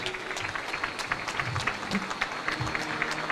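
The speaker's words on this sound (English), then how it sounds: "Round of applause, ladies and gentlemen." Audience applause following the official launch of a strategic plan at a formal public ceremony, a steady even clapping from a large crowd that stays at a moderate, constant level throughout.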